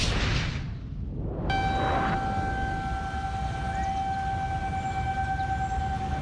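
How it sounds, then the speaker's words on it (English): Tornado warning sirens wail across an area during a severe storm, a steady sustained outdoor tone that swells in after a brief lull and holds for several seconds over a low rumbling background. "The sirens seeming to just go off for hours in our area."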